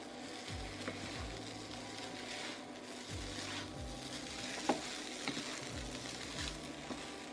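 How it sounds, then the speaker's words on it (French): Nasi goreng with shrimp sizzling softly in a pan over high heat, stirred with a spoon in several scraping strokes and light clinks, faint and close, with no talk. "Encore quelques coups de cuillère à feu vif."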